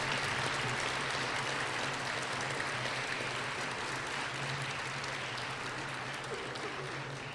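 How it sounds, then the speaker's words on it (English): A university commencement audience applauds faculty and staff at a fall graduation ceremony, a dense sustained roar of many hands clapping in a large hall that holds steady throughout. "I'd like you to give a round of applause and thanks to the faculty and staff"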